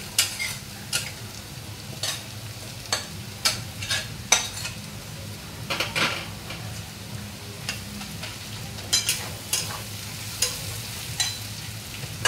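Fried egg being added to leftover rice frying in a pan, with a steady low sizzle under repeated sharp scrapes and clinks of a spatula stirring, close and fairly quiet, no voices.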